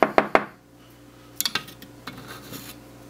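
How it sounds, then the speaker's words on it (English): A metal spoon scrapes and clinks against a solder pot while scooping old flux dross off the surface, with three sharp taps up front followed by lighter scraping knocks, close and clear with no talking. "go ahead and spoon out this junk"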